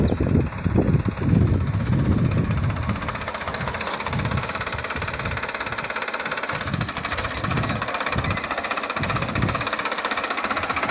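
Tractor engine running steadily at close range, a loud continuous diesel chug with rhythmic knocking throughout.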